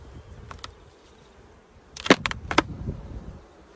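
Honey bees buzz around an open hive during a honey harvest, a low steady drone with a few individual bees zipping close past in brief, louder buzzes.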